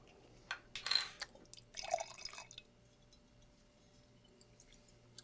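Sake poured from a freshly opened bottle into a cup, a short burst of liquid splashing and trickling over about two seconds, close and fairly quiet, followed by near silence.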